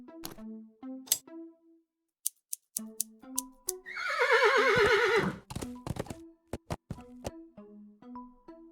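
A horse in the video game Willy Morgan and the Curse of Bonetown gives one loud, close, quavering whinny, framed by game music tones and clip-clop steps.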